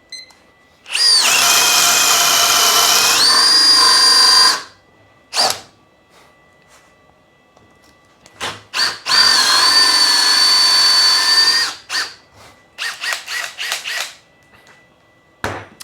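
Cordless drill at speed 2 on a fully charged battery, boring with a brand-new Bosch 1-inch spade bit that later binds and sticks. Two long, loud whirring bursts stand out, followed by short stuttering pulses and clicks, with no talking.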